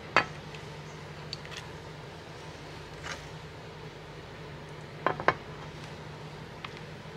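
Spoon clinking against a pot and serving bowl while mussel curry is scooped out, a few sharp metallic taps scattered over a soft low background hum.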